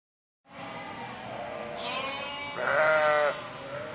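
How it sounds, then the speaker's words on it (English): Sheep bleat on a farm in a steady stream of overlapping calls. A louder, nearer bleat rises out of the flock near the end. "There were bleats and blats everywhere."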